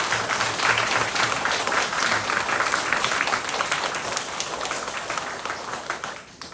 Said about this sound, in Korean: 우리 감사 찬미의 박수를 한번 쳐야 되겠죠?